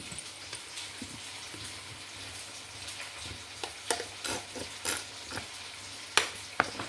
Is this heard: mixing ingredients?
yes